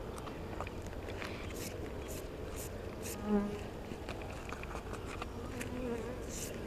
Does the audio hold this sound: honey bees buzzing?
yes